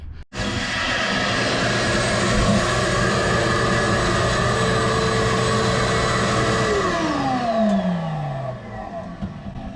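An angle grinder works on a delaminated section of a boat hull, running loud and steady with a high whine throughout before spinning down with a falling pitch at the end.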